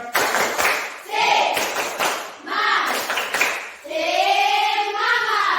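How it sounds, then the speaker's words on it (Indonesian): A standing group performs a rhythmic spirit clap in bursts of quick patterned hand claps, loud and close, alternating with shouted group chanting. "Tepuk semangat saja, ya."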